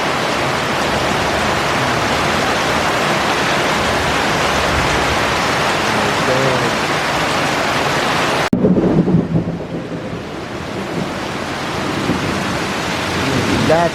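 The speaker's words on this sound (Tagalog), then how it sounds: "Kidlat, may kasamang kulog at kidlat." Heavy rain pours steadily in a garden during a thunderstorm, a loud continuous wash that breaks into a sharp crack of thunder partway through, followed by rolling rumble under the downpour.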